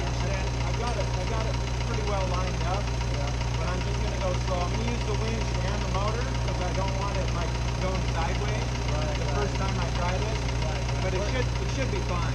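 A truck engine idles steadily, its low droning hum running unbroken throughout while a trailer is winched into place, with muffled voices talking over the engine.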